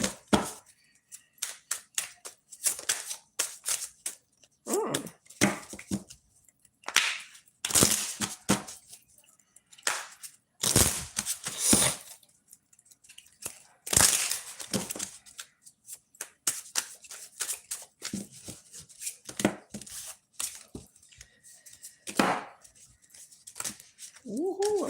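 Tarot cards being shuffled by hand, a string of crisp riffling and sliding bursts of varying length broken by short pauses, close and fairly quiet, with no talking.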